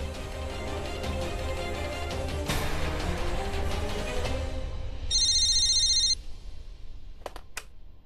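Music plays throughout, and a telephone rings once with a bright electronic trill for about a second, followed by a couple of faint clicks.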